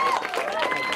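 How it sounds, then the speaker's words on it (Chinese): A dense wash of crowd applause and cheering fills a film trailer premiere, loud and continuous with voices mixed in throughout the short burst. "掌声不断"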